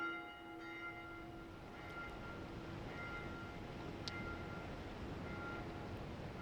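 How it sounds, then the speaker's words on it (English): A large bell at No-Man's Wharf in Dark Souls 2 tolls several times, faint and distant with a long ringing decay, over a steady low rumble of ambient noise. "Ring the bell again, and off we go."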